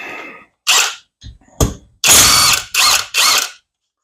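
A hand ratchet tightens the valve cover bolts on a Kawasaki FH680D engine in a Massey 1655 mower, giving several loud, close bursts of rapid clicking with short pauses between strokes and no talk.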